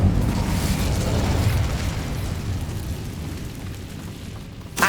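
A fiery Incendio spell bursts in Hogwarts Legacy, a loud, dense roaring blast that stays heavy and rumbling for several seconds before dropping off, with no talk over it.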